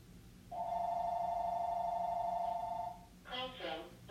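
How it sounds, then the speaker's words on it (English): An incoming call rings on a telephone as a single sustained electronic tone lasting about two and a half seconds, followed by a short synthesized voice announcement. "Getting a phone call"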